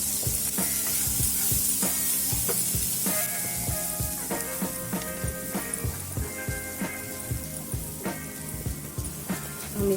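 Sweet corn tossed with black pepper and cumin powder is stirred in a hot pan. A spoon scrapes in a steady rhythm over a soft sizzle, with tonal background music throughout.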